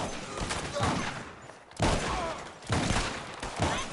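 Rapid bursts of gunfire from a Red Dead Redemption 2 shootout, loud and close, coming in three dense volleys separated by brief lulls, with game sounds layered underneath.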